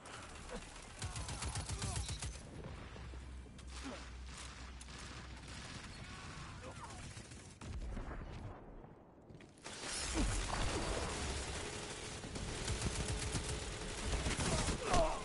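Sweet Business auto rifle from Destiny 2 fires in a sustained spray, a dense rattling stream of rapid shots with loud booming impacts, pausing briefly midway before the heavy automatic fire resumes, with game effects and explosions layered in.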